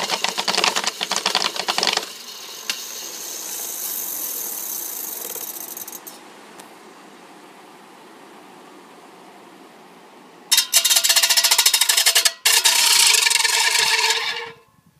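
A bike-pedalled DC motor generator is geared up to spin very fast, giving loud rapid mechanical whirring and clattering in bursts, with a quieter steady hum between the loud spells.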